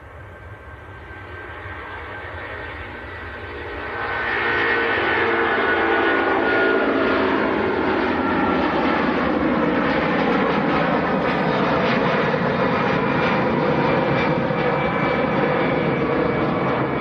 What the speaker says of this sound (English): A330 of Jet2 on the roll,